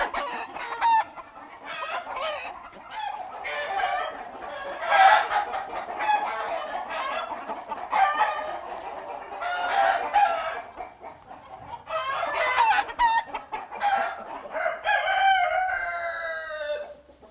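Many roosters and hens on a breeding farm cluck and crow together in a busy overlapping chorus, with several loud cock-a-doodle-doos standing out near and far.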